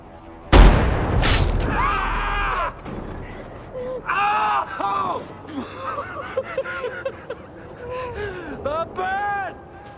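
Gunfire from the 2007 film Shooter: a loud close boom opens, followed by more sharp shots and bursts mixed with voices and shouting in a chaotic movie scene.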